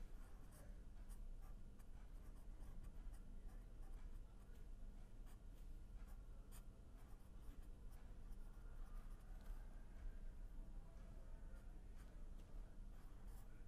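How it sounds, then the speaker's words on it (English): A pen writes equations by hand on paper, close by and faint, in a steady continuous scratching with tiny stroke ticks that runs unbroken with no talking. "let me write down the equations"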